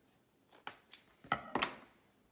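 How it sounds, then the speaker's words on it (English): Scissors snipping through moleskin padding for blister care, cutting out the centre: about five short, crisp cuts spaced irregularly, close and fairly quiet, with no talking. "the one that I'm going to put underneath, I'm going to cut the center out of it"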